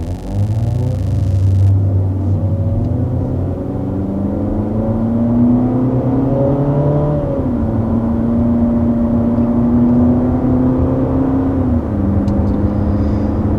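A 2020 Jeep Cherokee's engine pulls steadily as the SUV gets up to speed on the road, its rising hum stepping up through gear changes and cruising smoothly under continuous cabin rumble.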